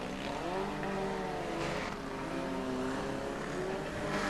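Cars in a 1994 demolition derby race around the Long Eaton track, a loud, continuous roar of several engines with rising and falling revs and a brief surge of noise midway.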